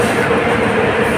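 A double-decker train fills a Chennai station platform with a loud, steady rumble and faint rolling clicks throughout.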